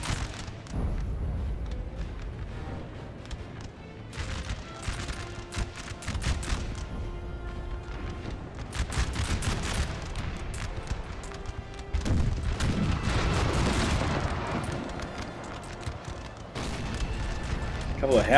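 Cannon and howitzer fire in Napoleon Total War, with 12-pounder and 8-pounder guns: repeated distant booms and rumbling volleys sit low under a battlefield din, with a voice talking over them.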